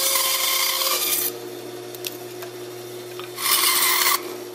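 A carved wooden fish cutout being trimmed with a hand tool, two loud bursts of raspy rubbing and scraping separated by a quieter gap with faint ticks, up close over a steady background hum, no talk.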